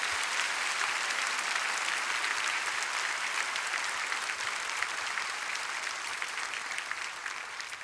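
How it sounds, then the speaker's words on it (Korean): A large church congregation claps loudly and continuously in encouragement for the churches of Pohang, a dense, even roar of many hands sustained throughout with no voices over it. "큰 박수로 응원하며"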